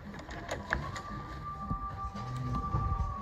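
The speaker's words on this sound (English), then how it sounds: "Great sewing machine, Juki LU-1560, with the new gauge set of 3/8" A Juki LU-1560N industrial sewing machine with a 3/8-inch gauge set whirs steadily up close, with a sustained hum and a fast mechanical ticking throughout. No one speaks.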